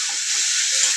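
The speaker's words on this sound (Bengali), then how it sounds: "দিয়ে মশলাটা একটু কষে নিই।" Spice paste with a little sugar sizzling in a hot wok (kadai), a steady bright frying hiss that stays fairly loud and even throughout with no voices.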